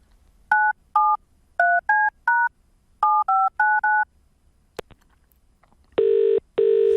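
A quick sequence of ten landline telephone dialing tones in irregular rhythm, a brief click, then two long ringing tones.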